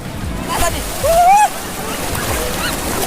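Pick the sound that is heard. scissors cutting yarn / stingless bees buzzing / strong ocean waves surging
strong ocean waves surging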